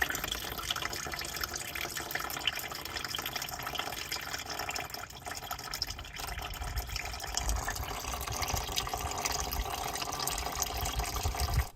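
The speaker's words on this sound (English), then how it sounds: "we're just going to let this thing sit here and drain for a little bit until it stops dripping" Engine oil and coolant drain from the oil cooler of a 2000 Ford Excursion with a 6.8L V-10, a steady faint liquid trickle and drip that runs unbroken throughout.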